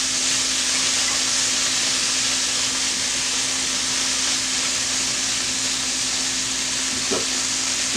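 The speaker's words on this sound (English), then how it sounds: "With that, just to heat it up with the onion." Onion and turkey stuffing sizzle steadily as they heat in a pan, a loud continuous frying hiss with no pauses and a brief stir near the end.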